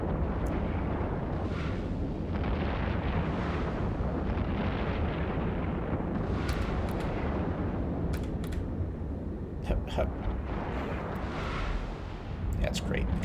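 Missile explosions in EVE Online thud and rumble one after another, with sharper crackling bursts toward the end, heard under ongoing talk.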